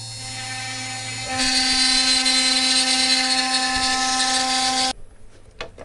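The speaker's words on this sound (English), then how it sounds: "So here we see the final plate with all the little intricacies carved out by this CNC router." A CNC router carves a metal plate with a loud, steady high-pitched whine, rising into a harsher full cutting tone after a softer start, then abruptly stopping, leaving a few faint clicks and room noise.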